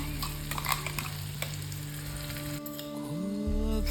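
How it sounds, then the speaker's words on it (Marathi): Malvani gravy poured into hot oil in a pan, a steady close sizzle and frying hiss with brief stirring clatter, growing louder toward the end, no talk. "आपलं तेल तापलेलं आहे, त्याच्यामध्ये आपण ग्रेव्ही ओतून घेऊया"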